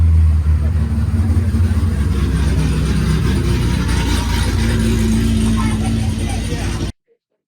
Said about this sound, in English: is a highly modified C7 Z06, and I will just let it